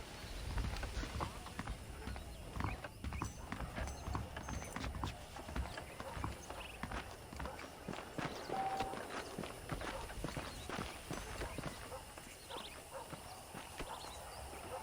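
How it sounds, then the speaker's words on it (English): Horse hooves clip-clop in a steady walking rhythm in Red Dead Redemption, with crisp, close hoof strikes over faint ambient background. "The horses are saddled up over here."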